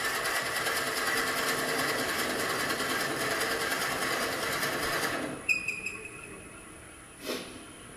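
A Freud Diablo Forstner bit cuts into wood with a steady, buzzing whine from the drill that runs for several seconds, then stops, leaving a few faint clicks and a brief rustle.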